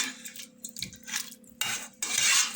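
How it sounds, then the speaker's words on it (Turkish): A spoon scrapes and clanks against a cooking pot while a pilaki barbunya bean dish is stirred, with several sharp metallic knocks and scraping strokes close by, no voices. "Ee, şöyle bir karıştıralım tencereyi."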